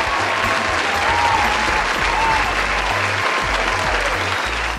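An audience bursts into steady, dense applause that holds loud and continuous throughout, with a low rumble of room noise beneath the clapping.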